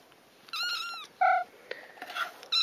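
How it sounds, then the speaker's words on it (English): Young kittens mew in short, high, plaintive cries, several close calls in quick succession with brief pauses between, heard alone in a quiet indoor room. "We're not deliberately torturing kittens."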